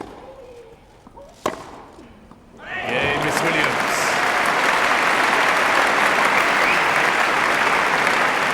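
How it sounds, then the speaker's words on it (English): A Wimbledon crowd bursts into sustained, loud applause after a quiet moment with a sharp knock during a 2013 fourth-round women's singles tennis match. The clapping continues evenly to the end. "Crowd really into this match now. The oohs and ahs on every point."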